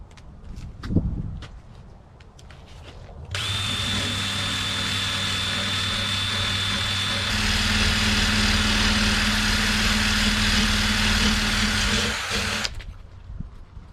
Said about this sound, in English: that's probably enough wire brushing just to demonstrate